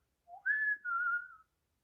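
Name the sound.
person imitating a whistle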